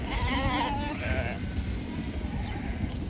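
A large flock of sheep being moved to new pasture bleats nearby in a few wavering calls at the start, then quiets. A person's voice overlaps the bleats amid outdoor rustling.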